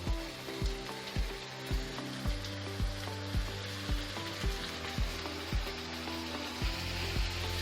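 Frozen vegetables hitting hot oil with fried onions over high heat, a loud crackling sizzle with regular rhythmic stirring scrapes pulsing roughly every half second.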